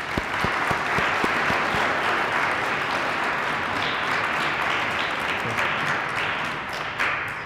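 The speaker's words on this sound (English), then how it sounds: "let's take a moment to give a round of applause to all of our DARE graduates." Elementary school audience applauding DARE graduates, a few sharp individual claps opening into sustained full-room applause that holds steady and thins slightly toward the end.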